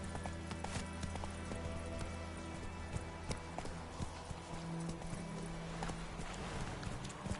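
Horse hooves gallop in a steady, rapid clip-clop rhythm inside a PS4 video game, layered over constant game music and background sound, with a brief whinny.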